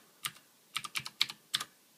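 Clicky key presses on a Ducky Shine II Cherry MX Blue mechanical keyboard: about nine crisp, fairly close clicks in small bursts with short gaps, no talking.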